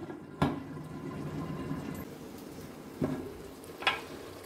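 Seafood biryani with sea chicken fish simmers in a covered pot, giving a soft continuous bubbling hiss broken by a few sharp lid or utensil clicks, close by and quiet.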